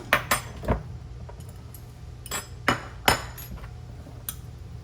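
A spoon and other cutlery clink sharply against dishes in a kitchen, about ten quick irregular metallic taps, some close and loud, with no talking.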